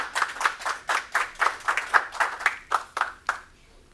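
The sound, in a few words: audience clapping for award recipient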